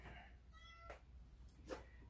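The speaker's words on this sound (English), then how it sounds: "my cats are mewing because they're kind of hungry" Hungry cats meowing indoors, two or three short, faint meows spaced apart against a quiet background hum.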